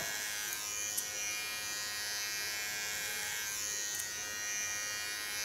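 Electric hair clippers trim hair during a home haircut, giving a steady, close, moderately quiet buzz that runs unbroken for several seconds with a couple of faint clicks and no talk.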